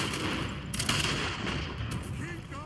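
Rapid bursts of gunfire crackle in Red Dead Redemption 2, loud and dense, as a firefight with several close shots layered over a busy game soundscape.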